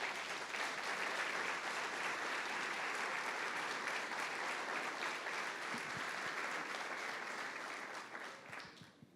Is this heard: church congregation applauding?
yes